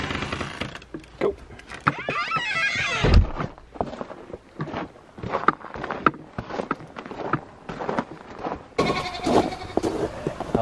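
Goats in a barn give repeated bleats in short bursts, some close and loud, with shuffling and other noises in between.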